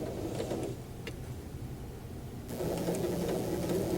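A sewing machine runs steadily while stitching a straight edge seam, giving a continuous close mechanical whir with a faint rhythmic needle chatter that briefly softens and then picks back up.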